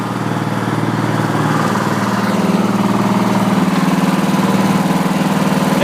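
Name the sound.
Craftsman LT1000 lawn tractor engine idling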